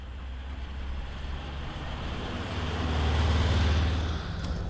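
A VW Beetle on the road, its engine hum and road rumble swelling steadily as it drives, rising toward a louder passage near the end, with no talking.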